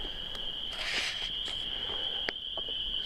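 Insects and frogs call at night beside a backpacking campsite in a state park, with a steady high-pitched trill running throughout and a few faint scattered chirps over quiet, still air.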